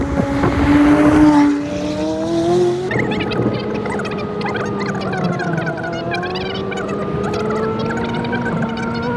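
A McLaren 570S Spider sports car drives past on a country road, its engine note rising loudly in a brief surge and then settling into a steady, slightly fading hum as it moves on, with no talking.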